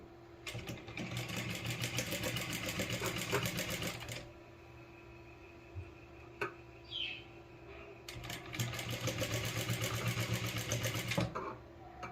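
Sewing machine stitching a blouse sleeve, running in two long steady bursts of rapid mechanical whirring with a quieter pause between, close and fairly loud.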